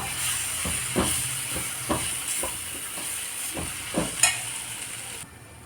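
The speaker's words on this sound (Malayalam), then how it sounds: "മല്ലിപ്പൊടി ഒരു രണ്ട് ടീസ്പൂൺ ഇട്ട് കൊടുത്തോട്ടോ നന്നായി ഒന്ന് മുരിയട്ടെ" Coriander powder fries in a pan for rajma masala while being stirred, with a steady hiss broken by repeated scraping stir strokes roughly every second, close and moderately loud.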